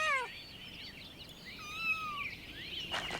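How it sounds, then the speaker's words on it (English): A faint, high meow from a small cat in the medieval game Pentiment, with a short rising-and-falling cry midway over quiet background ambience and no speech. "they got another little kitty there too"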